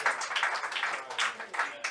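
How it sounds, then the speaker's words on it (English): Audience applause greets a panel of horse-racing figures at a Royal Ascot preview event, a steady broadband wash of clapping lasting the full two seconds with no words spoken. "Please give them a warm round of applause."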